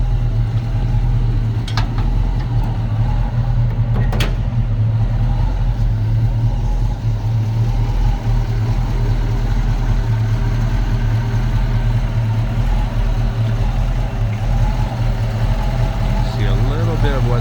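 A 1964.5 Ford Mustang convertible idling slightly low, a steady, even engine rumble held close and constant throughout, with a person talking over it.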